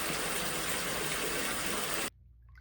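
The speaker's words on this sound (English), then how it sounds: "I'm making myself a bath, so I think I'm gonna try these bath salts to go with it this time." Water gushes loudly and steadily into a bathtub being filled for a bath, then cuts off abruptly near the end, leaving a quiet room.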